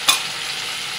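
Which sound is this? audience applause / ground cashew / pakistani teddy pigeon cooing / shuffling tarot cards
ground cashew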